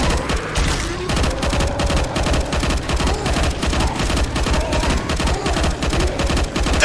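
Dense, continuous gunfire in the video game Left 4 Dead 2, modded, with overlapping rapid shots and automatic bursts sustained loudly throughout, close and relentless.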